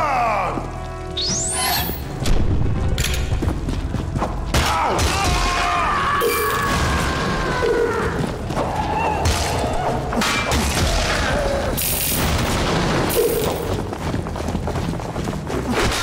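Bomb explosions in the video game Sir Whoopass, a dense, loud run of thuds and crashes under game music, continuous throughout without speech.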